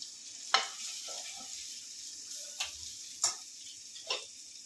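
Garlic chutney stirred into a pan with a spoon over a faint, quiet sizzle, marked by four or five sharp metallic scrapes and taps spread apart.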